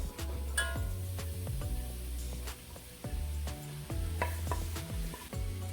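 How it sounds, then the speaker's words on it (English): Grated carrot sizzles in seasoned oil in a pan on the stove, a steady close fry with scraping stirs and ticking clicks, no voices. "I'm gonna add in that grated carrot."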